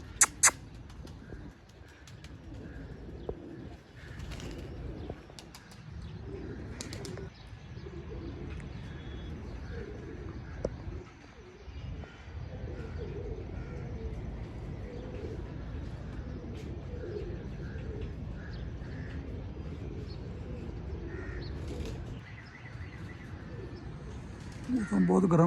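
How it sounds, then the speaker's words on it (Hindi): Pigeons coo softly in the background on a rooftop while someone talks and laughs over them, with occasional faint wing flaps and chirps. "नीचे आ गया कबूतर माशाल्लाह"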